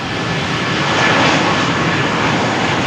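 At Malaga Airport on a stormy morning, an aircraft takes off from runway 13 with its engines at takeoff thrust. The roar is loud, broad and sustained, swelling slightly mid-clip with no voices.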